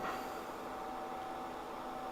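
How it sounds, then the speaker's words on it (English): A vacuum cleaner runs steadily nearby beside a machine being repaired, a constant broadband whoosh with a thin steady whine on top, unbroken and alone. "I've got my vacuum on."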